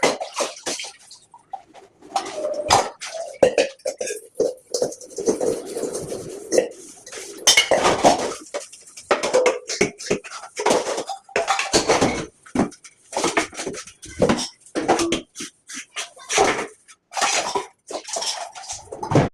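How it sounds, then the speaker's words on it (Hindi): Dishes, pots and steel utensils are scrubbed and rinsed by hand in a home kitchen, with continuous clattering, clinking metal and splashing water in irregular bursts, loud and close, with no talk. "ये हमारे बर्तन वगैरह सब मंज गए हैं"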